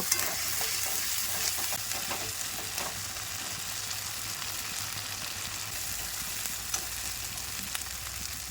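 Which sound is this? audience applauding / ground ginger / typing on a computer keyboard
ground ginger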